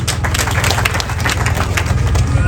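Dense, steady clapping from a large outdoor crowd at a road opening celebration for the Acholi and Lango communities, loud and continuous for the whole stretch with no voice over it.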